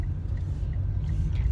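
Street traffic in the Philippines, a steady low rumble of passing cars and engines, loud and continuous, with no talking.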